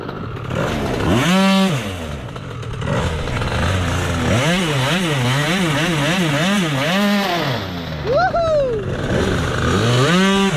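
A 100cc twin-cylinder dragster engine runs in rapid revving bursts, loud and close, with rising and falling pitch sweeps as it is blipped repeatedly, alongside some background noise.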